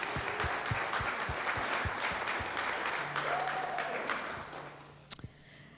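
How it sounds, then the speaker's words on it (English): Audience applause at a Ventura City Hall open house fills the room as sustained, fairly close clapping, thinning out after a few seconds into scattered claps and a couple of sharp knocks. "So let's give them a round of applause."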